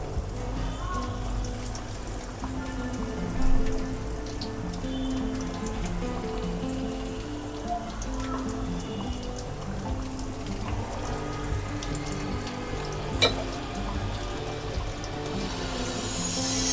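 Prawn kebabs frying in hot oil, a continuous close crackle and fine spattering sizzle that holds steady throughout, with occasional louder pops.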